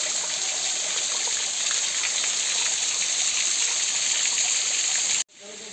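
A waterfall at Bardaha Ghati in Madhya Pradesh pours into a deep drop, making a loud, steady rushing roar of water that cuts off abruptly near the end.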